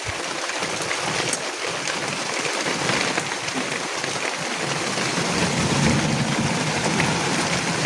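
Rain pours onto a shelter roof above a raised bamboo platform: a dense, constant hiss and patter, loud and unbroken, with no voices.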